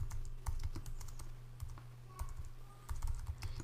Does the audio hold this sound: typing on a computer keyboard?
yes